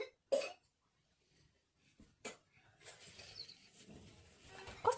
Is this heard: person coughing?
yes